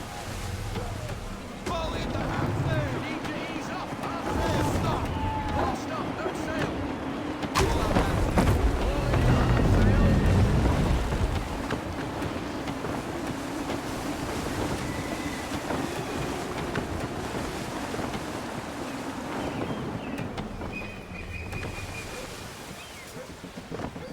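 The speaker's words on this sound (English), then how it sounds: "Gusty winds can be difficult to manage." Gusty wind and rolling waves surround a sailing ship at sea in Assassin's Creed III, a continuous loud rush with swelling gusts and a low surge building midway, steady ocean wash underneath.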